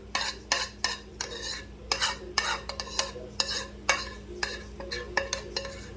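Butter-coated sautéed onions and celery being stirred into a pot of green rice, heard as a steady run of close, scraping spoon strokes and soft clinks against the pot, with light sizzling underneath and no voices.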